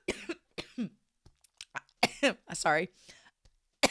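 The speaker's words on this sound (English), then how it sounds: "Choking on the liquid from the cough drop." Sharp, repeated coughing from someone choking on the liquid of a cough drop, bursts scattered across a few seconds and mixed with a short spoken apology close to the mic.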